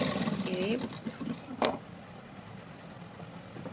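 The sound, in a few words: sewing machine stitching frock fabric pieces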